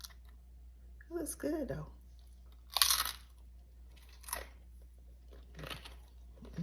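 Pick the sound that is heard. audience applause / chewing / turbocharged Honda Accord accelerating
chewing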